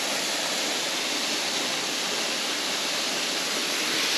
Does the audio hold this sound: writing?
no